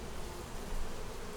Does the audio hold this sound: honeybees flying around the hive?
yes